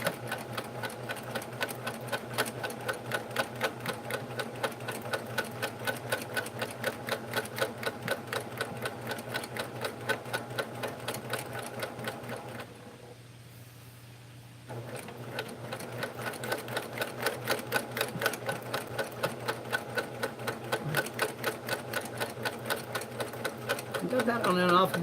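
Sewing machine free-motion quilting pebbles and swirls, running in a steady rapid stitching rhythm, close and continuous, with a brief pause partway before it resumes at the same pace.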